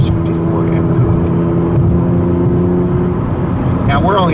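A BMW Z3 M Coupe with the S54 inline-six engine runs steadily near 3,000 RPM, a loud, continuous droning hum that holds even throughout, with a brief rising sweep near the end and a voice talking over it.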